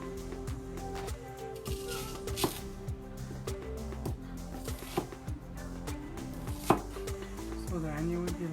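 Knife chopping onions on a cutting board in a steady, rapid rhythm of crisp knocks, close by and continuous for several seconds, for a big plate chicken dish.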